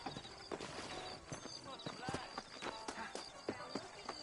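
Horse hooves clip-clop across the frontier town of New Austin in Red Dead Redemption, a steady rhythmic trot of soft knocks under faint background ambience.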